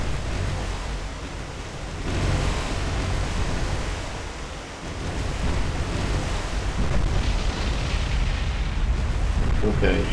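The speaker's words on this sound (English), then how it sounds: "Okay, she had a magazine explosion." A ship's ammunition magazine explodes during a World War II naval battle in the game War on the Sea, a loud, sustained roar of broadband rumble and crackle that fills the whole stretch without letting up.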